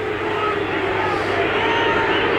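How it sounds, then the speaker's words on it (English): Crowd at an Essendon vs Carlton AFL match in 2014, heard as a steady broad roar of stadium murmur and distant voices, fairly loud and continuous with no commentary over it. "just to show you listen to the crowd"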